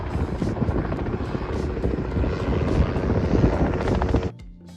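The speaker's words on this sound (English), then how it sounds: "I think that's our helicopter coming in." A helicopter arrives for a birthday ride, its loud continuous rotor chop and engine roar close and steady for several seconds before cutting off abruptly.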